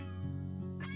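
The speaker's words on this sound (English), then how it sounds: "I don't know if that's my cat." A cat meows once, faint and somewhat distant, with a drawn-out tonal cry rising at the end over a steady background hum.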